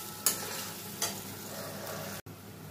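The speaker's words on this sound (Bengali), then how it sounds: "গ্যাসের ফ্লেমটা সিমে রেখে খুব ভালোভাবে আমি মশলাটা কষি।" Spice paste for a hilsa fish curry is stirred as it fries in oil over a low gas flame, giving a steady close sizzle with a couple of sharp scraping strokes and one brief dropout.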